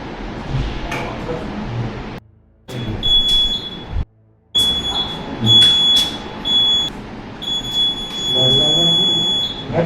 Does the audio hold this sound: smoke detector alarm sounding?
yes